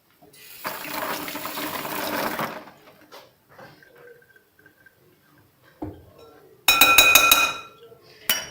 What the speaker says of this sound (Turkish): Ellerimi yıkayayım hemen geliyorum.